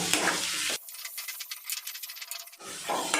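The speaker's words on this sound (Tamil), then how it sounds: "கொஞ்சமாக கருவேப்பிலை இலைகள் சேர்த்துக்கலாம் வதக்கிக்கலாம்" Green chillies and curry leaves sauté in a hot pan with onion and garlic, giving loud bursts of sizzling and crackling with stirring scrapes, then a quieter hissing stretch before the sizzle surges again.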